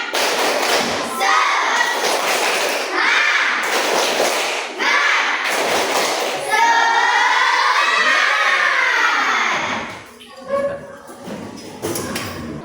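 Children in a classroom do a clapping chant, chanting loudly in unison, punctuated by rhythmic bursts of clapping and thumps, then the chant trails off into scattered voices.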